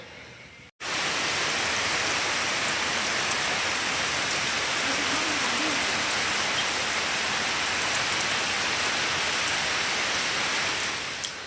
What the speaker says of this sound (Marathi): पाऊस येतो जातो उघडतो पुन्हा ऊन पडतं असं चालू आहे.